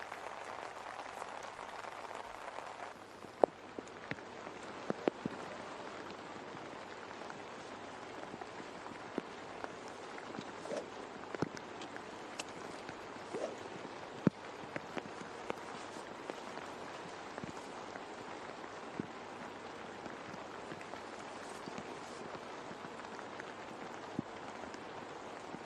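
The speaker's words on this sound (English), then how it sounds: "Quite a spot of rain" Rain falls on a golf course during the final round of the Korea Open golf tournament, making a steady hiss with scattered sharp patters throughout. It sounds soft and even, and no one speaks.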